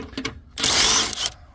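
A socket tool unscrews a bolt on the front end of a 2017 Ford Focus, giving a short, close ratcheting whir of under a second after a couple of faint clicks.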